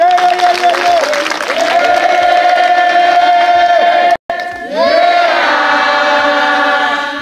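A congregation at a deliverance worship service loudly cheers and acclaims the Lord, a dense mass of sustained voices broken by a brief cut near the middle before the crowd swells again.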